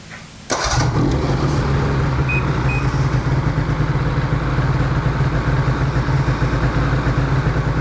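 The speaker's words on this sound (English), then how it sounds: "Start it up and see what it does." A 2010 TNT engine fitted with a Boyesen part starts with a quick crank and catches, then settles into a steady, loud, rumbling idle that continues to the end, no talking.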